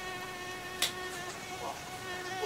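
Close, steady mosquito whine with layered harmonic buzz held for a couple of seconds, a brief sharp click partway through, no voices.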